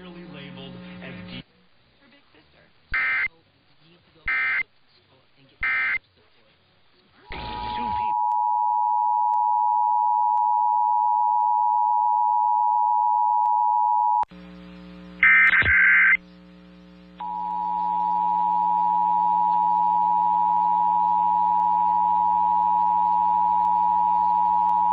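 San Diego area Emergency Alert System monthly test: bursts of data-like header tones, then a long steady loud alert tone, a brief mid-level break, then another steady tone over a constant low hum.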